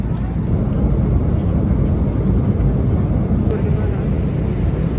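Inside an airplane cabin nearly ten hours into a long flight to Istanbul, a steady, loud, broadband roar of engine and air noise runs without a break.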